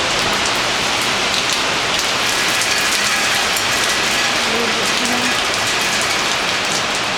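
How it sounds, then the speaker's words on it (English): Heavy, wind-whipped rain pours down steadily over a city in Sri Hartamas, a loud, dense and unbroken hiss with drops pattering on surfaces close by. "I just can't believe how strong the rain is."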